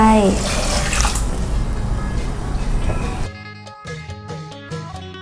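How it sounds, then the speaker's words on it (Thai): Water gushes steadily into a cooking pot of Thai pork curry (gaeng om moo) for several seconds, then gives way to clinking and lighter splashing. "แล้วเราจะเทน้ำลงไป"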